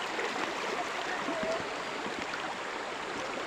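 A river crossed on the way to a corn harvest gives off a steady, faint rushing wash of flowing water, with no other sound standing out.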